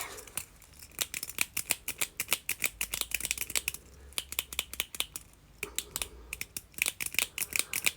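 A clicky fidget palette with four buttons in a row, pressed over and over in quick bursts of sharp, crisp clicks, near and distinct, with short pauses between runs and no talking.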